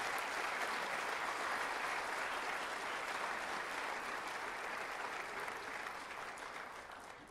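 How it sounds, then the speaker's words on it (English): Sustained, dense applause fills the room for senior athletes at a high school awards night, a steady crowd clapping that holds loud and gradually tapers off at the end. "give a big round of applause to all of our senior athletes that can make it tonight"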